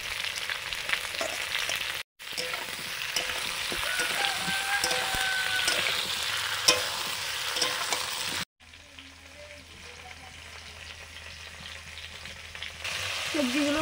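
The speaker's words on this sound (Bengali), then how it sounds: "সবজিগুলো ভাজা হয়ে গেছে।" Vegetables including ridge gourd and green chillies fry in a pan, a dense crackling sizzle with stirring clatter, cut by brief gaps and quieter toward the end.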